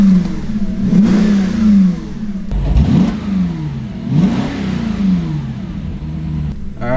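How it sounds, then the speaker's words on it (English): Close and loud, an Audi S5 engine with its exhaust valves closed gives several short revs over a steady idle, each quick rise falling away before the next. "Alright, we'll get a couple little baby revs. The valves are closed right now,"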